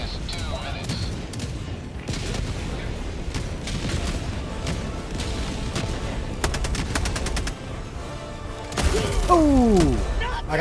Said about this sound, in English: I got killed by my own autocannon